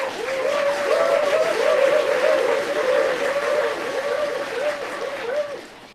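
An applause clap sample triggered over and over, forming a steady, continuous wash of crowd clapping at fairly loud level, with a rhythmic repeating pattern running through it for several seconds.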